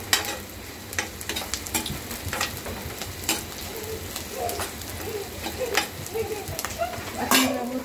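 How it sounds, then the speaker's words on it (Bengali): Onions frying in a pan while gourd curry is cooked, a steady crackling sizzle with scraping stirs at irregular intervals, a voice occasionally speaking over it. "পেঁয়াজ ভাজি করে নেওয়া হচ্ছে।"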